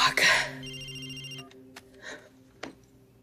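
A telephone ringing indoors in a dubbed suspense film, a short electronic ring burst followed by fainter repeated tones over a quiet background.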